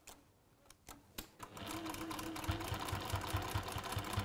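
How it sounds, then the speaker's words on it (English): Sewing machine stitching across the top of a bag, starting with a few short bursts and then running steadily in a fast rhythmic whir. "when I get to the top and I sew across"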